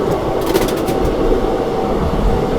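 The North East Express passing at a railway crossing, a loud, steady close-range rumble and rattle of rolling carriages with faint clacking, filling the whole clip without talk.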